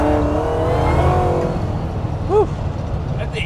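A supercharged 1967 Chevy C10 engine revs hard and then falls away, with rising and falling harmonics, loud and close, before voices break in near the end.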